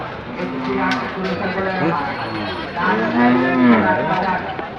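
A red Sahiwal bull at a cattle market in Gohorpur bazaar, Sylhet, gives a loud, close, drawn-out low moo, with the market's background noise and people talking around it.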